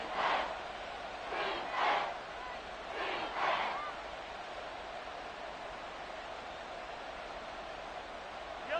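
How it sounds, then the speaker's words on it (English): A large football stadium crowd at an NFL game roars in a distant, steady wash of noise, swelling in a few cheering surges early on before settling into a constant hum. "this crowd is making an impact right now"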